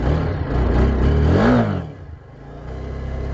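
A motorbike engine starting up and revving, a mid-pitched engine note that rises to a peak and then drops back to a steady low idle.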